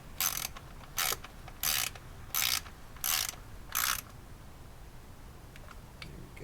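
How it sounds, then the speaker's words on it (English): A hand ratchet tightens valve cover bolts on a Toyota 1ZZ-FE engine: six quick, evenly spaced clicking bursts close up, then quiet handling noise. "I'm gonna go corner to corner, just to tighten them up"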